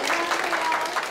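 Brief burst of audience clapping during a live-commerce show-host lecture, dense and fairly close, lasting only about a second with a slight swell and fade.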